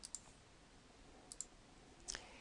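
Faint plastic button clicks on a graphing calculator, a few sharp isolated taps in a quiet room.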